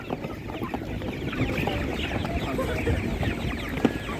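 Many broiler chickens at an animal market cluck and murmur together in a dense, continuous background chatter, with occasional sharper calls standing out.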